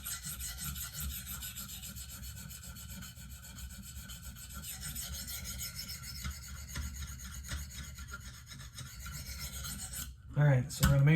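Benchmade Steep Country knife edge drawn across a stone on a KME guided sharpener: a steady, continuous rasping scrape close by for about ten seconds, then a brief louder clatter at the end.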